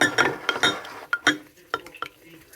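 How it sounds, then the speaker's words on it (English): A spoon stirring strawberry preserve into plant-based yogurt in a bowl, a run of close, bright clinks and scrapes against the bowl, irregular and quickening then spacing out, with no talk. "Take a spoonful, stir that in there."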